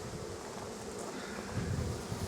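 Honeybees buzzing around an overflowing nuc hive, a soft continuous drone of many insects close by, mixed with light wind noise on the microphone and no voices.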